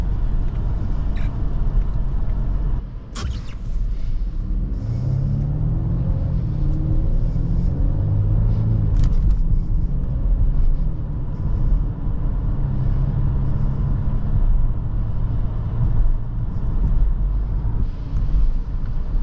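A 2024 Volvo S60 B5 AWD with an 8-speed automatic driving on snowy Canadian winter roads, heard from inside as a steady low rumble of engine and road noise with a few brief knocks, loud and continuous.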